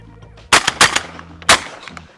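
A Weatherby 18i 12-gauge semi-auto shotgun fires light target loads in a quick string of three loud, close blasts, the first two rapid and the third after a short pause.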